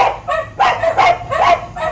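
A dog barks loudly and close by, four or five sharp, slightly whiny barks in quick succession.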